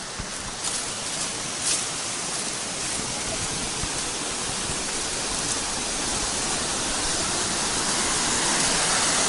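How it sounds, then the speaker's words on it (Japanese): Umeki Todoroki Falls in a mountain park at Gokanosho, Kumamoto, gives off a steady, even rushing roar of falling water that carries on unbroken throughout. "梅ヶ江の滝"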